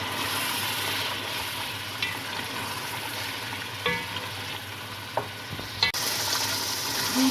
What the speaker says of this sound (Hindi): दूध डाल के इसे अच्छी तरह से भून लेना है।